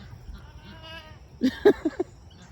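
Goats give a few short bleats at close range on a homestead deck, a quick cluster of four calls after a soft voice-like tone and low background rumble.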